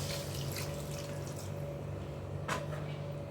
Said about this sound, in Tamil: இப்போ இதில் நம்ம தண்ணி சேர்த்துக்குவோம்,